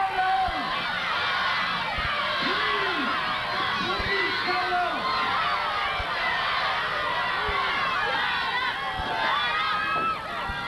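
A huge, loud crowd of over 14,000 roars and cheers nonstop at a pro wrestling event at Thompson International Speedway, with shouting voices rising and falling in a dense, continuous wall of noise.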